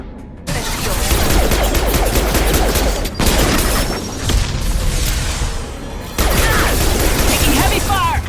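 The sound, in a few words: heavy gunfire in Mass Effect 2 video game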